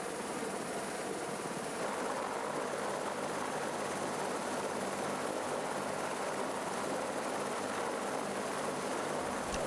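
A BK 117 helicopter runs continuously at a distance, giving a steady, fairly faint rotor and engine wash with no breaks for nearly ten seconds.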